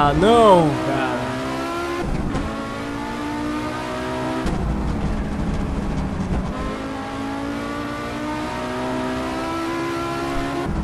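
Audi Sport Quattro S1 E2 rally car racing at Highlands in Assetto Corsa, its engine revving hard through gear changes with rising and falling pitch, loud and continuous, with someone talking over it.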